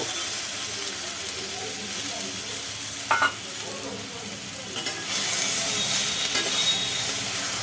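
Poppy-seed paste with potato and drumstick pieces stirs and fries in a pan, a steady loud sizzle and hiss with scraping spatula strokes, close up and continuous, no talking.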